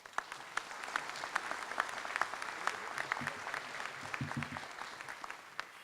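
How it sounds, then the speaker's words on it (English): Audience at a SkyConnect ribbon cutting claps steadily, a dense patter of individual claps in a room with faint speech underneath, moderately close and quiet. "let's give them a round of applause"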